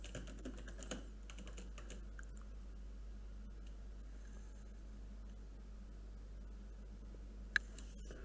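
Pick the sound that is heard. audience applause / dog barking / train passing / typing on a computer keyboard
typing on a computer keyboard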